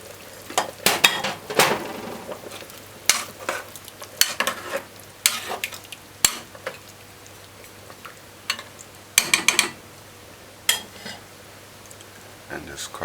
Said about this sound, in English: we're going to now add the broad beans